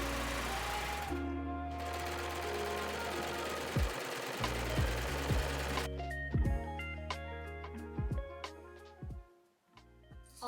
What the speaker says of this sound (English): I'm gonna start by taking all of these lining pieces and serging them